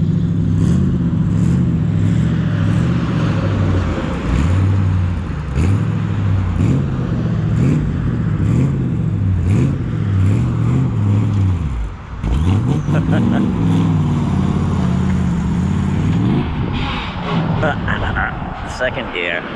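A 1948 Merc on the open road, its engine droning and rising as it pulls through first and second gear, with a clear dip where it stalls and restarts, while someone talks over it.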